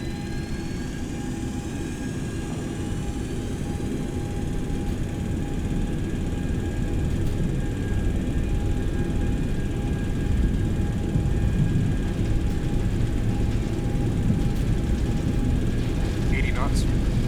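Boeing 727-200 engines at takeoff power in a flight simulator, a steady, dense jet roar with a faint high whine, continuous throughout at an even level.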